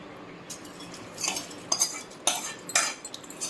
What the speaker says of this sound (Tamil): இப்போ எல்லா சாதத்துலேயும் சேர்கிற மாதிரி நல்லா மிக்ஸ் பண்ணி எடுத்துக்கலாம்